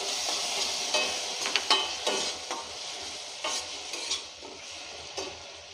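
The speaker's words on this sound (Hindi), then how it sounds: "अनियन थोड़ा ब्राउन ब्राउन हो गया है" Onions browning in a pan over a low flame for a masala dosa filling, a steady close sizzle with scattered clicks and scrapes of a stirring spoon.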